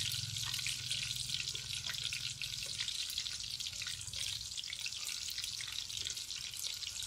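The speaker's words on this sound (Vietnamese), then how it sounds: "Mình chiên đậu hũ cho rất là giòn." Thin slices of tofu deep-frying in hot oil until crispy for a vegetarian salad, a steady dense sizzle and crackle running unbroken and close, with no talking.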